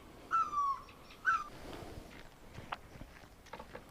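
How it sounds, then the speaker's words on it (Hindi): An Asian koel calls from a large, very old toon tree in an Uttarakhand village, giving two clear, rising whistled notes near the start over a quiet outdoor background with faint rustles. "और इसमें कोयल भी बोल रही है अभी।"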